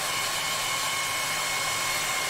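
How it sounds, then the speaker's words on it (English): A hair dryer blows steadily at close range, a continuous broadband whoosh with a faint motor whine, unbroken for the whole stretch. "So we got Mrs. Oliver's hairdryer back."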